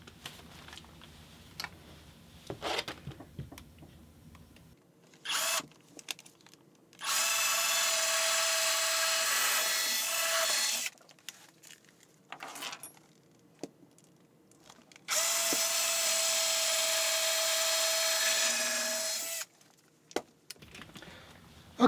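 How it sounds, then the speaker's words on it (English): A power drill boring holes for wooden alignment dowels, in two long steady bursts of high whine, each several seconds, with brief clicks and handling noises between them; no one talks. "So I'm going to go ahead and drill those holes right now."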